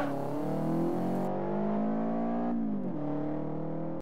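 A 1992 Mitsubishi Galant VR4 in Forza 4 revs hard up and down, its close, loud engine note rising and dipping over several pulls before cutting off abruptly.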